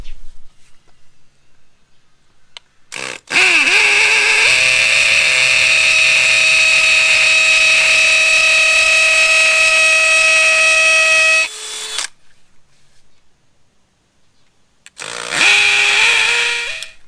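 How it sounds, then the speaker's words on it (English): Hammer drill boring into concrete during house building in the Philippines, a loud steady buzzing whine lasting about eight seconds, stopping, then starting again briefly near the end. "when it drills, it will make a buzzing sound that you don't normally hear when you are in the regular drill position"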